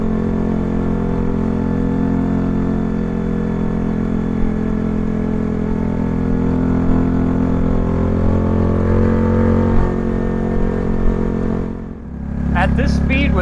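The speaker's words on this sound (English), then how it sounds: "Poor motor sounds so unhappy though." A Honda Grom motorcycle engine labors uphill in second gear on a mountain road, a loud continuous strained drone with heavy wind rumble that dips briefly near the end, and a rider talks over it.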